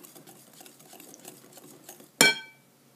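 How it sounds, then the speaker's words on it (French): Madeleine batter of eggs and yeast stirred in a bowl, with soft, quiet scraping strokes that end in one sharp, ringing knock of the utensil against the bowl's rim. "Je rajoute ma levure et je continue toujours à mélanger"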